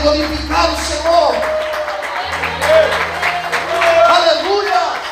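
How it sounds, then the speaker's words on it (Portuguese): A church congregation applauding during worship, loud and sustained clapping with a voice speaking over it and low organ-like tones beneath. "Você pode aplaudir o Senhor e adorar ao nome de Deus."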